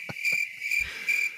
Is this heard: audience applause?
no